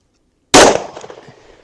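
A single sharp gunshot from a concealed carry handgun fired into ballistic gel cracks out of silence, loud and close, followed by a short decaying echo.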